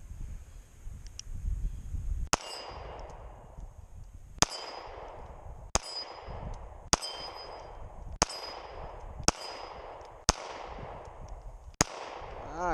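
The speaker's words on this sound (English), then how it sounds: "All right, so let's shoot a little more here." Seven gunshots from a Taurus Millennium PT111 G2 pistol crack out at a range, each a sharp report with a ringing tail, spaced roughly a second or two apart over steady wind noise.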